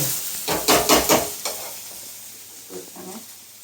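A spoon stirs amaranth greens (arai keerai) in a pan: a run of quick scraping, sizzling strokes close by, then a pause and two softer stirs near the end, with no talking.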